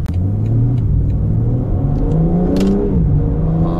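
A BMW M4 Convertible facelift with M xDrive all-wheel drive accelerates hard, its engine loud and close as it climbs through rising revs with a brief shift break, ending near the start of braking.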